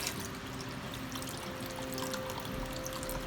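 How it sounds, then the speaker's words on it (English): Vegetable stock pours steadily into a soup pot, a continuous close splashing and trickling stream that holds at an even level throughout without talk. "now I'm just going to add in the last of my stock"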